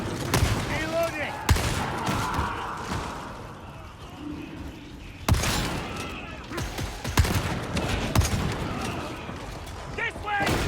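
Warhammer 40k Darktide combat with heavy shotgun blasts and scattered gunfire, sharp loud bangs recurring every few seconds over a busy, rumbling background.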